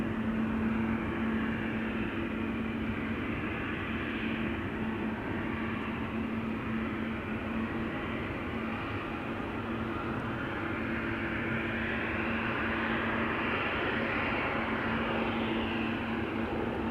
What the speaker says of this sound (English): Now two back-to-back KLM 737s to London Heathrow.